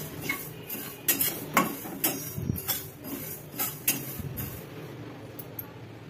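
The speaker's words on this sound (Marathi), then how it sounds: "आपण गॅसवर कढई ठेवली आहे आणि त्याच्यामध्ये हे सर्व मसाले आपण भाजून घेणार आहोत" Spices roast in a kadhai over a gas flame, with a spoon clinking and scraping against the metal in a series of sharp taps over a faint background hiss.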